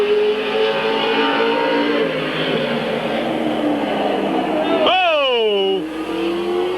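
Stock race cars roar around a short-track speedway in a 1996 event, a dense sustained engine drone with one car's pitch sweeping sharply down as it passes close by, heard under a continuous race announcer's commentary.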